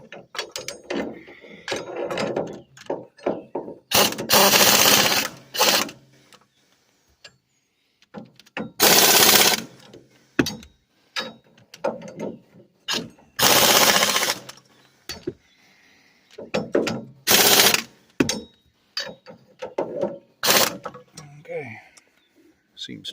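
Pneumatic air impact tool tightening the rear three-point pin on a Ford 1720 tractor, with the compressor turned low: several loud, sharp bursts of rapid hammering separated by pauses and quieter clicks and handling sounds.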